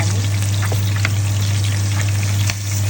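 Water is poured into a sizzling pan of chicken curry with tomato. A loud, continuous hiss and crackle holds steady over a low hum, with no voices.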